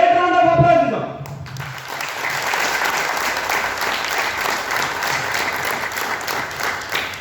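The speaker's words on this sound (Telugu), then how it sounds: "ఒక్కసారి మీ అందరికీ ఒక గ్రేట్ రౌండ్ ఆఫ్ అప్లాజ్ ఇద్దాం" An audience at a business opportunity seminar breaks into loud, sustained applause that fills the room for several seconds after a voice fades out.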